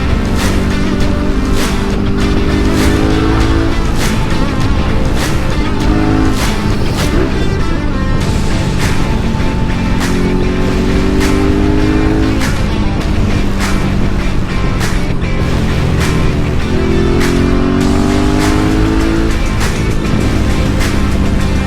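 A 2019 Suzuki V-Strom 650 motorcycle engine runs loudly and close for about twenty seconds in winter conditions, its revs rising in repeated swells between sharp popping bursts, with no voices heard.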